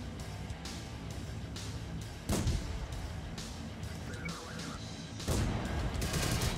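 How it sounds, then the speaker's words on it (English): Machine gun fire in the World of Tanks video game rattles through a dense, continuous battle din, with two heavier impacts cutting sharply through the steady background noise. "He's got some sort of machine gun!"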